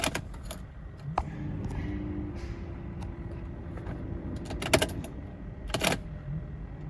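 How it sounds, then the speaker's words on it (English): The fuel system of a BMW E39 is primed, with a low steady electric pump hum over several seconds, close by, punctuated by sharp clicks and key or switch sounds. "now I'm gonna prime the fuel system"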